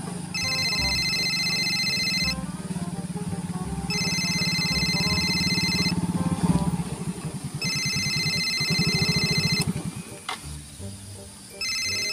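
A telephone ringtone rings loudly in repeated electronic bursts of tones, about four rings separated by brief pauses, with faint rustling and background noise between them.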